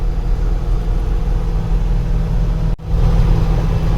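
A K20 Suburban swapped to a 5.3 engine and SM465 gearbox cruises along, giving a steady in-cabin drone of engine and road noise that dips briefly for a moment before resuming.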